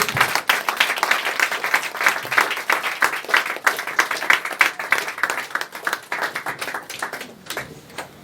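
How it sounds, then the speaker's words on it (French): A church congregation claps together in steady, dense applause at a Christian service, loud and sustained throughout before easing slightly toward the end. "On acclame le Seigneur bien-aimé"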